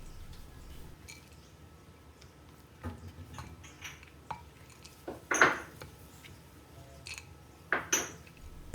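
Couscous being stirred with vegetables and nuts in a dish, giving sparse, quiet clinks and scrapes of a spoon on the dish, with a couple of sharper knocks near the end and no talk.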